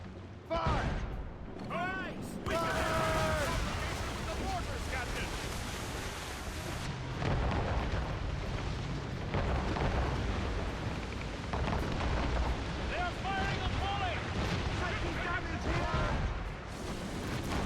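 Naval mortars firing and exploding in Assassin's Creed Rogue: continuous booming blasts and rumbling impacts beneath voices that talk throughout.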